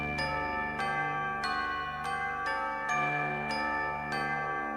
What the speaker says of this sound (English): the bells in this kind of sound Christmassy